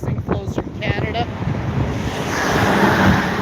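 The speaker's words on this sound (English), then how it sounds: "Look at the waves onto it. This is a river." Water of the Red River washing under a city bridge in Winnipeg, a steady rushing surf with heavy wind buffeting the microphone, growing slightly louder, with a few brief voices early on.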